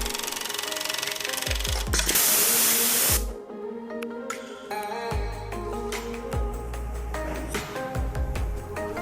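NT-4408 UTCD industrial multi-needle sewing machine in operation, a loud hissing spray-like burst from its thread trimming followed by steady mechanical whirring with intermittent thumps and clicks, close and continuous.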